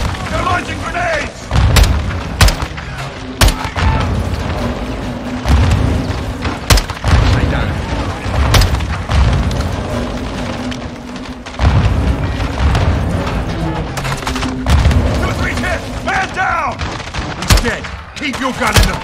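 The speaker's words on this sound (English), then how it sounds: "They're launching grenades!" Grenade blasts and heavy gunfire in Call of Duty Modern Warfare 2, loud repeated booms and sharp cracks punctuating a dense battle din, with shouted voices.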